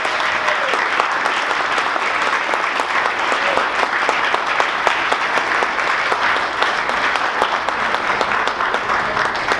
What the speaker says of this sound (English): let's all give a nice round of applause.